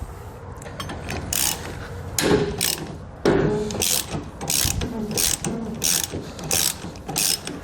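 A ratchet tool clicks in repeated bursts as it cranks down the spare tire from beneath a 2021 GMC Sierra pickup, with steady metallic ratcheting, brief pauses and a few clunks between turns, close and fairly loud.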